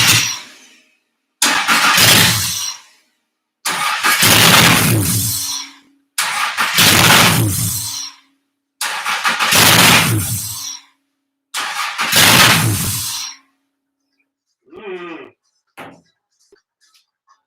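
A Honda J-series V6 transplanted into a Porsche 914 cranking for its first start: six loud, long bursts of churning engine noise separated by silences, then a few short mechanical sounds near the end.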